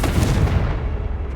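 A single heavy explosive burst from the Confringo spell in Hogwarts Legacy: a loud, booming blast that decays over about a second, with nothing else heard.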